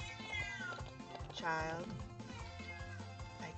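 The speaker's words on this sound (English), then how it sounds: "No, the cat door is open." A house cat meows loudly and plaintively over steady background music, with a voice briefly heard.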